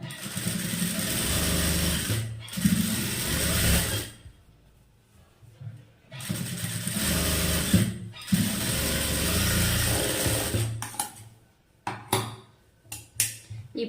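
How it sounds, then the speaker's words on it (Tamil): A tailor's sewing machine stitches a band onto the main cloth of a garment in loud, rapid bursts separated by pauses. The run ends in several short clattering stops. "இப்போ பட்டியோடைய இந்த மெயின் கிளாத் மேலே வந்து ஒரு தையல் போட்டுக்குங்க"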